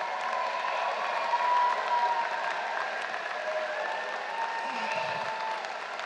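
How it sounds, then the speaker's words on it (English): A large audience at a university commencement ceremony gives a sustained round of applause, a dense, even wash of clapping held at moderate volume throughout, with faint tonal sounds drifting underneath. "Give your faculty and staff a nice round of applause"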